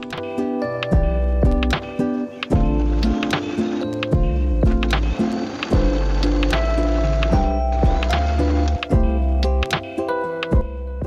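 A sewing machine stitches a seam through two layers of fabric placed wrong sides together, giving a steady, close mechanical whir with rapid regular ticking that runs without pause.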